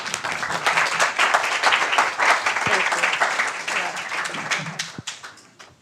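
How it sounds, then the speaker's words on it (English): An audience at a young professionals' conference claps in a steady round of applause that gradually tapers off, with a few last claps near the end. "Can we give her a round of applause?"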